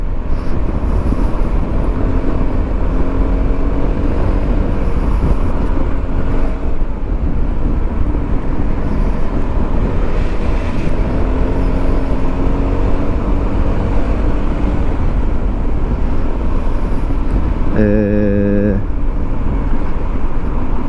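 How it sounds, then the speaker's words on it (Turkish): Heavy road and wind noise roars steadily throughout, the rumble of riding a Honda Forza 250 scooter in Istanbul traffic at night, with a brief horn-like tone near the end. "Trafik var ama yine akıcı bir trafik var."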